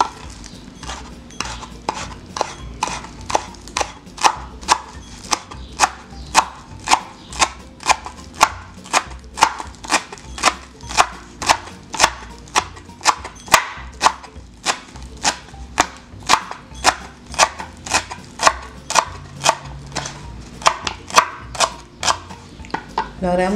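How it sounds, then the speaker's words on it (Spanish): Half a bunch of fresh parsley being chopped with a knife on a cutting board, a fast, steady run of sharp close knocks repeating for over twenty seconds with no talking. "Ahora vamos a picar lo que es el perejil"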